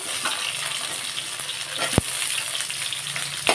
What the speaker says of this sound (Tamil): இது கொஞ்சம் வெங்காயம் வதங்கட்டும்